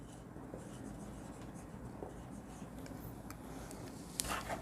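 Pen scratching on paper while working a class 12 accounts problem, a steady close, quiet writing texture with a slightly louder stroke near the end and no talking.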